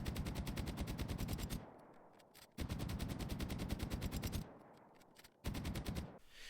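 Bursts of a very fast-firing AT Wad submachine gun in Generation Zero, three long rapid strings of shots separated by short pauses, loud and close with no talking.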